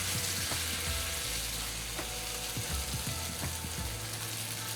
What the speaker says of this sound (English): I'm putting them on the hot skillet.